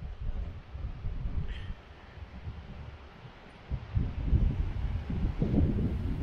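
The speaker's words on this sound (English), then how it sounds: "It's a very windy day." Strong wind buffets the microphone in low, rumbling gusts that ease off briefly, then surge back louder toward the end.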